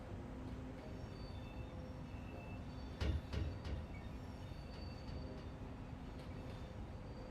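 Train wheels with three-axle bogies clicking over rail joints in the SimRail railway simulator: a short burst of clustered knocks rises out of a steady, loud rolling rumble partway through.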